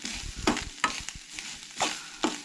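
Sprouted moong being mixed with turmeric and garam masala in a pan, heard as about five distinct scraping stirs of a spoon against the pan over a faint low sizzle, close up.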